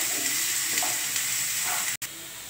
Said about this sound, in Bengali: পেঁয়াজটা একটু হালকাভাবে ভেজে নেবো আমি।